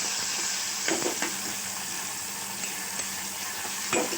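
Onion, ginger and garlic sizzle steadily in a pan while being mixed, a continuous frying hiss with a few soft spoon taps against the pan.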